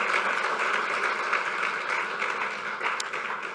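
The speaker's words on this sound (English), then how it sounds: "Please, a round of applause for her again." Sustained applause from the audience at a women's summit in a hall, dense and steady clapping that holds throughout and fades slightly toward the end.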